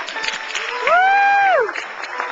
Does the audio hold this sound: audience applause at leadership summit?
yes